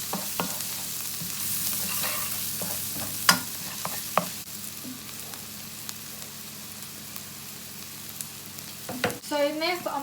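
Halal sausages fry in a pan for a family spaghetti dish, giving a steady low sizzle with a few sharp clinks and stirring scrapes, and a louder burst of spitting near the end.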